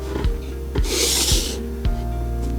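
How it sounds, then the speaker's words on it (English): A microfiber dish towel is rubbed over a dish in several close, rhythmic strokes, each with a soft scuff, plus one longer hissing wipe partway through. "I will clean the dish and we can see the polishing performance."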